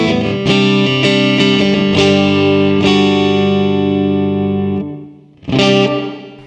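Harley Benton ST-JAMster electric guitar on a clean-plus-reverb setting: strummed chords ring out bright and sustained, several strikes decaying into a long reverberant tail, then a fresh chord at the end, with no voices.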